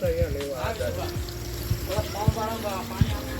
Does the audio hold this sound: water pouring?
yes